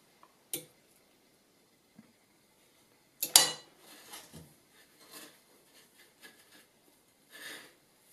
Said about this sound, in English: And then she's putting them on a plate.